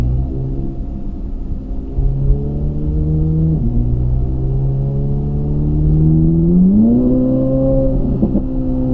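A Corvette C8 Z06 engine revving under throttle, a deep continuous growl that climbs and settles in pitch, dropping back and then sweeping up again, loud and close with no talk.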